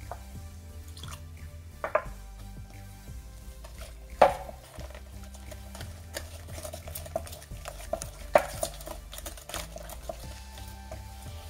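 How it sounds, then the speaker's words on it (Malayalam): Batter for Kerala ethakka appam, banana fritters, is stirred in a bowl with soft, wet scraping and a few louder clinks of a utensil against the side, close and quiet, with no talking. "നമുക്കിതെല്ലാം ഒന്ന് മിക്സ് ചെയ്യാം."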